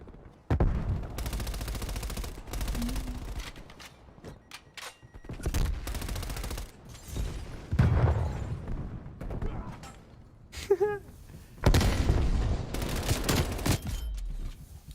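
Dense bursts of automatic gunfire and explosions from a first-person shooter game come in loud, repeated volleys with short gaps between them. A voice speaks over parts of the action.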